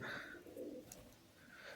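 Giribaz pigeons coo softly in a few low, throaty rolling calls, close but quiet, with no talking.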